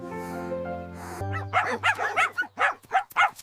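A small guard dog barks in a quick series of about seven sharp, close barks, starting just as soft background music ends.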